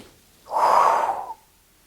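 A single deep, close inhale during a mat Pilates exercise, a breathy rush lasting about a second that stands alone against near silence.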